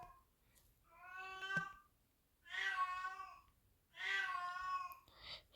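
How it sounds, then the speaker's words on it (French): A cat meows three times in drawn-out, clear calls, close and fairly loud, with short quiet pauses between each cry. "Oh, le chat."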